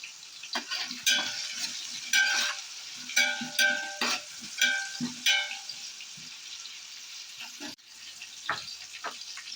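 Sliced onions and green chilies sauté in a pan for chicken biryani, with bursts of sizzling and a spoon clanking and scraping the metal in uneven strokes, quieter gaps between them.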